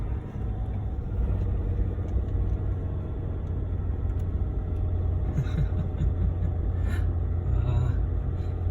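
A truck rolls along a snowy forest road with a steady low rumble of engine and tires, a few faint knocks and rattles breaking in near the end.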